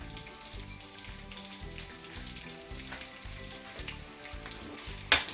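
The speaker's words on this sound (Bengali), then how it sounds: "তেল দিয়ে দিলাম, এখন আমি একটু পেঁয়াজ দিয়ে দিব।" Chopped medium-size onion sizzles steadily in hot oil in a pan, a soft continuous hiss over a rhythmic background beat, ending with a sudden sharp clatter near the close.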